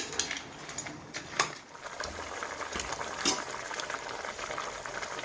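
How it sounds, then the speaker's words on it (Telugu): Crabs simmer in a pot with tamarind leaves, bubbling steadily with a dense, continuous gurgle and occasional sharper pops or lid clinks, close and moderately loud. "బాగా ఉడుకుతున్నాయండి"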